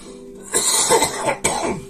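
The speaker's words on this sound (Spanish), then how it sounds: "Disculpen, estoy un poquito con una tos más o menos" A single person coughs twice in quick succession, close and fairly loud, with no talking.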